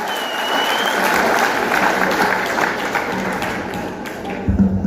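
An audience applauds at a family event, with a dense, steady burst of clapping that stays loud throughout and thins slightly toward the end.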